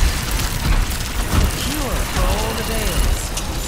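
Rocket barrage explosions in Overwatch 2 hit as a few heavy booms and bursts over dense game noise, with chirping, voice-like effects in between.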